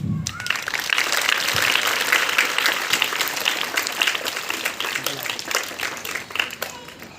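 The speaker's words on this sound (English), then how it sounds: "Clap everyone, clap." Sustained applause from a gathered crowd at a school Independence Day cultural programme, steady clapping throughout with a low murmur of voices underneath.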